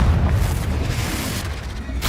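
A Confringo fire blast spell in the video game Hogwarts Legacy, a deep booming rumble that holds loud for about two seconds before ending with a sharper burst.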